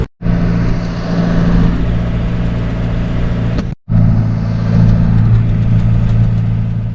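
A 15-year-old farm tractor's engine runs steadily at a constant idle, loud and close, with a strong low rumble and a brief break partway through before it carries on unchanged.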